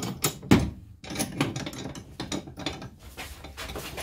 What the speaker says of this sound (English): Let's test out this vise.